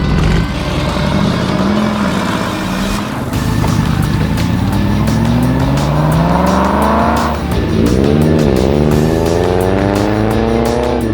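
A 1-litre turbocharged Nissan Micra driving on a long road trip, its engine droning steadily with rising and falling pitch sweeps as it accelerates and shifts, loud and continuous with road and wind noise.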